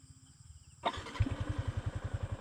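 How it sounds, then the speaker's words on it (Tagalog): A Yamaha Sniper 155 motorcycle engine cranks and catches after a quiet moment, then settles into a steady, loud, even-pulsed idle close by, with no talking. "So start lang natin yung motor."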